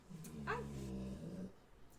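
A low, close dog growl rumbles for about a second and a half, with a brief higher whine in the middle.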